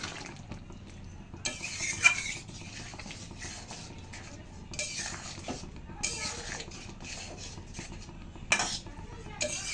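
A spoon stirs and scrapes fried soybean pieces with garam masala in a metal pan, giving repeated clinking and scraping strokes with no voice over them.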